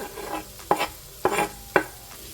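A hot pepper is stirred into a sizzling pot: three sharp scraping strokes land about half a second apart over a steady, close frying hiss, with no talking.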